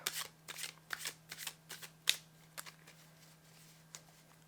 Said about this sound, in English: So I think I'm going to do another shuffle.